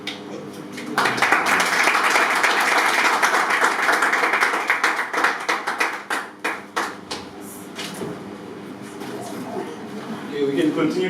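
Audience applause at an entrepreneurship talk, a dense steady wash of clapping that thins into scattered individual claps before swelling again near the end.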